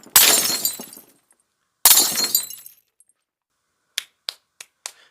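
Glass breaks and shatters in two loud crashes, each trailing off in scattered falling shards, followed by a few short, sharp clinks of pieces settling.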